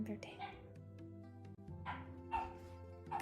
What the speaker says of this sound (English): the dog's now barking